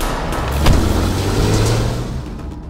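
In a Hindi-dubbed movie chase scene, a car pulls away in pursuit of another car with a rising engine growl and road noise that swell, then ease off over a few seconds.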